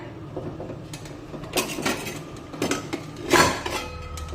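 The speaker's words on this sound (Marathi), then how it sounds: "कुकरचं आपण झाकण काढूया" A pressure cooker lid comes off after a chocolate cake has steamed inside for about forty minutes. A few sharp metallic clinks and clatters ring out close by, the loudest near the end.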